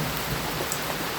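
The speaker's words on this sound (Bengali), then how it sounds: "বৃষ্টি একটুও থামছে না।" Heavy rain pours steadily during a night flood in Medinipur, a dense, even hiss of falling water close by with no pauses and no voices.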